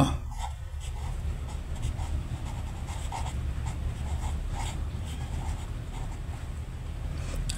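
Pen strokes scratching out tally marks on paper during a math lesson, a steady run of short, light scrapes over a constant low hum.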